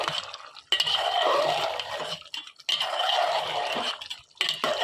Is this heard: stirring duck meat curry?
yes